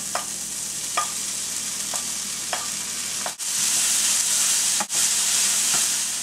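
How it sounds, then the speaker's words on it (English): Ground turkey hitting a pan of cooked onions and garlic, a loud continuous sizzle that surges as the meat goes in, with a few light spoon taps and clatters over it, no voices. "I am going to go ahead and add the meat to the pan."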